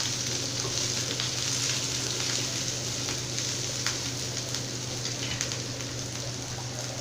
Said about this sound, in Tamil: இது பச்சை மிளகாய் போட்டு வணக்கியாச்சு.